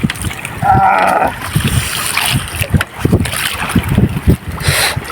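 Strong sea waves from a distant typhoon crash and splash loudly against something nearby, with rushing water and gusty wind noise throughout.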